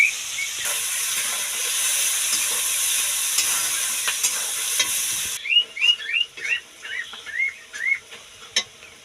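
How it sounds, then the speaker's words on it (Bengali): Onions frying in a pan with salt added, a steady loud sizzle and hiss while being stirred, the sizzle dropping away midway to leave repeated short scraping stirs in the pan. "আমার পেঁয়াজ ভাজা হয়ে গেছে"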